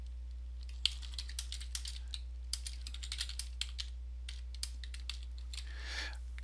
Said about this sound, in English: Pardon my typing.